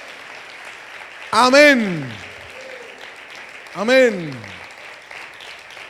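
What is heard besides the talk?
congregation applause in church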